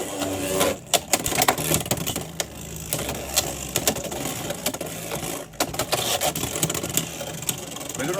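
Beyblade X tops spinning and colliding in a stadium after launch, a dense rapid clatter of plastic and metal hits with sharp clicks and a whirring rattle, close and continuous with a brief gap partway.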